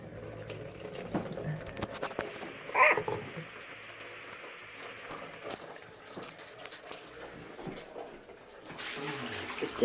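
Water running and trickling out of a leaking radiator during an emergency repair, a steady, close flow with splashes and clatter of handling, a louder gush near the start and a swell at the end, with background noise.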